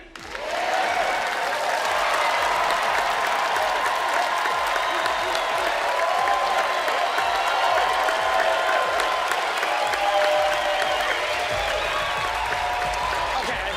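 A TV studio audience at a magic show claps and cheers loudly and continuously for several seconds, a dense wash of applause with scattered whoops.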